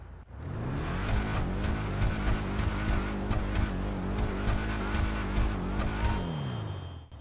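Dominator GTT muscle car in GTA 5 idles and revs with a loud, steady, throbbing V8-style rumble, rising briefly then settling, close and continuous with no talk over it.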